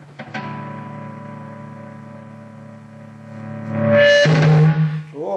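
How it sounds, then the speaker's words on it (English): Distorted electric guitar chord through a Zoom 510 distortion pedal ringing out and sustaining, then a louder, gritty swell of overdriven notes near the end. "Let's go straight to a distortion sound that I've already selected"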